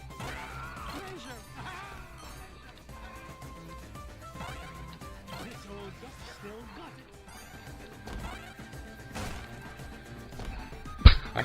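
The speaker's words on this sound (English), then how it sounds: "You're smashing stuff too quickly." Smashing and whacking hits from the video game DuckTales appear as repeated sharp impacts over game music. One loud crash comes near the end, and people talk throughout.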